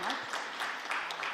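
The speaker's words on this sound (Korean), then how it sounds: "또 부시장님께 큰 박수 좀 부탁드리겠습니다" A conference audience applauds at a Korea-EU EcoMobility local government session. The clapping is brief, faint and distant, a soft patter of many hands with no other sound.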